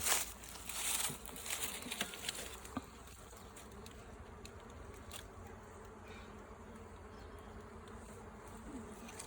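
Honey bees buzz in a steady, close swarm as a nuc is moved into a hive in Dominica, with a constant drone and occasional soft handling noises of frames and tools.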